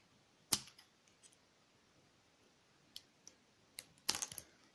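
Headphone cable being cut: a few sharp, isolated snipping clicks in a quiet room, one early and a tight cluster near the end.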